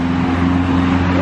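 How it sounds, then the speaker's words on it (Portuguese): A tuned 160 cc motorcycle fitted with a modified comando gives off a loud, steady engine drone held at high revs for a brief moment, with a rough harmonic hum throughout. "Quem escuta o barulho de comando, rapaz?"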